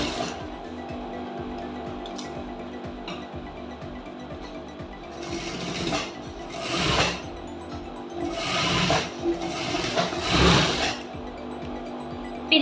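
A sewing machine runs a lock stitch on a lining blouse, short whirring bursts in quick succession that grow louder and busier toward the end, over a low steady room hum.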